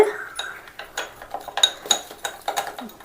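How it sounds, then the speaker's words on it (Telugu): A spoon stirs multani mitti clay powder into tomato juice in a bowl, giving a busy run of light, close clinks and scrapes against the bowl with brief pauses between strokes. "మొత్తాన్ని మెట్టి ఎత్తి ఈ టమాటా జ్యూస్లో వేసి కలుపుకొని బాగా కలపాలమ్మా"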